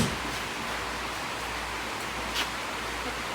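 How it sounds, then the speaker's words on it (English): Heavy rain drums steadily on a tin roof, a dense, unbroken hiss with no talking. "Excuse the rain. I got a tin roof in here, and it's loud when it rains."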